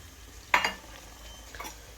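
Cinnamon, cloves and cardamom dropped into a pan with onions for a simple kushka: one sharp metallic clink of a utensil, then a faint, low sizzle and a softer clink.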